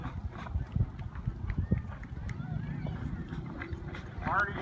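Pack horses gallop in a packhorse race in Dubois, Wyoming, their hooves clip-clopping in an irregular rhythm at mid distance, while an announcer talks over the action almost throughout.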